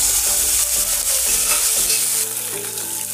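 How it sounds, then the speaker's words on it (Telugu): Boiled eggs poked and seasoned with turmeric and salt sizzle loudly in a hot pan, a dense continuous fry with a few soft stirring scrapes, no voices. "ఇప్పుడు మనం ఫ్రై చేస్తాం"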